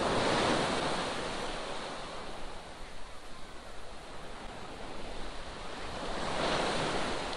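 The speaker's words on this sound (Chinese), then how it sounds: "海浪还是颇大" Ocean waves break on a beach at Stanley Park in Vancouver, a broad, steady roar of surf swelling louder at the start and end, with wind in the background.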